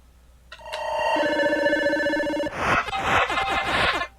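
A mobile phone ringtone goes off during a live stream, a loud electronic melody of sustained tones that shifts into a busier, rapid patterned stretch of ringing for several seconds.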